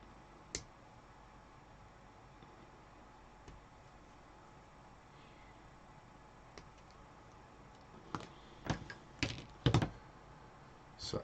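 Small plastic Warhammer 40k Space Marine parts are snipped from the sprue: a few faint isolated clicks early, then a quick cluster of sharp, close snips and cracks near the end against a quiet background, with no talking.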